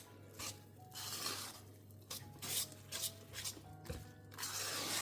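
A spoon stirs muffin batter seasoned with oregano and chicken salami in a bowl, giving soft, scraping swirls and light clinks against the side in an uneven rhythm, close and fairly quiet.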